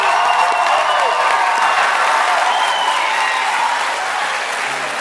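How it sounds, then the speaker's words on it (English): Loud, sustained round of applause from a large conference audience at a student leadership opening session, dense clapping with a few faint cheers, easing slightly toward the end. "Let's give all the members of our Board of Directors one last round of applause."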